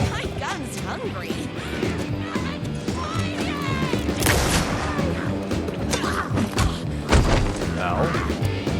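Gunshots from the player's gun in Alan Wake 2, a dense run of booming impacts and crashes layered over game music and effects, with someone talking over parts of it.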